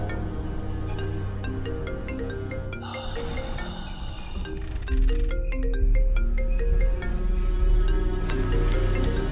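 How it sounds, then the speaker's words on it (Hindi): A mobile phone rings with an incoming call in a home, its melodic ringtone repeating steadily and fairly loud over a musical drama score, with no talk during the ring. "तुम्हारी अम्मी का फोन आ रहा है यार"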